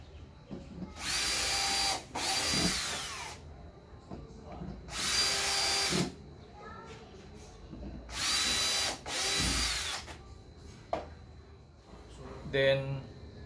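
Power drill boring four bolt holes into a small drum cover for a DIY cyclone dust collector, in three pairs of loud, steady whirring bursts separated by short pauses, with light clatter of handling between runs.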